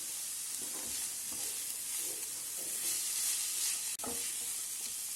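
Grated ginger and a large pinch of hing sizzle steadily in hot oil in a pan, a soft continuous frying hiss with faint stirring scrapes, heard alone without voices.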